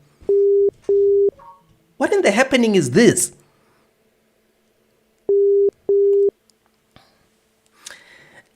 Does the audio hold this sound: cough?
no